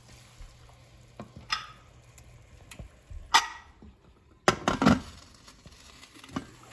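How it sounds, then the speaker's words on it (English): Chopped green chilies and tomatoes fry in a pan for mutton curry: quiet, intermittent bursts of sizzling and spatula scrapes, with two louder crackling flares in the middle. "Now let's add some green chilies and tomatoes. This also let's fry it for 2 to 3 minutes."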